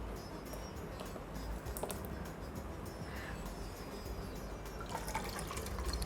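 Nellikai gooseberry rasam pours steadily into a pot, a soft continuous liquid splash with faint dripping running the whole stretch, fairly quiet and close, with no talk.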